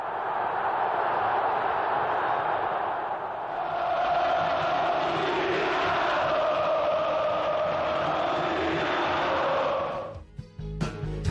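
A stadium crowd of Atlético MG supporters roars in a sustained, dense wave of cheering and chanting that swells and holds for about ten seconds before dropping off.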